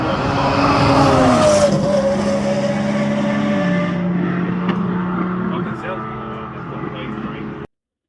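An LS V8-powered Toyota Cressida drag car roars loudly down the strip at a drag racing track day, its engine note climbing and dropping through gear changes before fading away, with voices faintly in the background.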